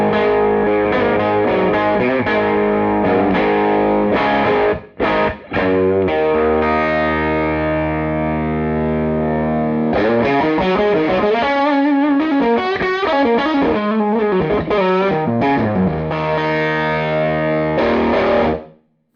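Electric guitar driven hard through a Supro Black Magick Reverb TB amp, loud and distorted: sustained chords, a couple of brief cuts, then busy wavering riffs and bends, close and alone before stopping abruptly.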